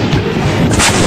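A Bofors artillery gun fires, a single loud, close, booming blast with a sharp crack followed by a rumbling tail.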